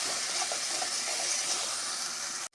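Spice mixture for a potol dorma frying in a pan, a steady close sizzling hiss that runs unbroken and then cuts off abruptly at the end.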